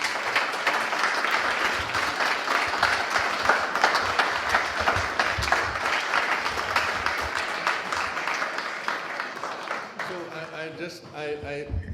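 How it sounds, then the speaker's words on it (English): An audience at a farewell gathering for someone breaks into sustained, dense applause that fills the room for several seconds, then thins out as a voice begins speaking near the end. "you're so much clapping for me"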